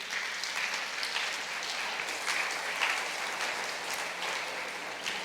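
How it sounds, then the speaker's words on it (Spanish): A church congregation gives God loud, sustained applause, a dense, even wash of many hands clapping that holds steady throughout, with no one speaking over it. "Dale un aplauso fuerte a nuestro Dios."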